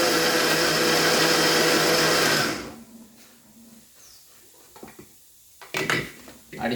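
A kitchen mixer blends banana cake batter with two tablespoons of milk, a loud steady whirring that runs for over two seconds, then cuts off and leaves faint clinks and rustles.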